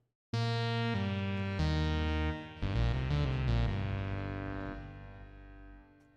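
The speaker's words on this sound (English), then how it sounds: "That's got some reverb on it" A synth or instrument sample with reverb, sharp tonal notes struck in sequence that ring out and decay slowly into a lingering wash.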